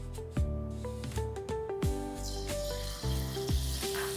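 Batter-dipped paneer bites fry in hot oil over a medium flame, giving a steady, close crackling sizzle that runs through the whole stretch beneath background music.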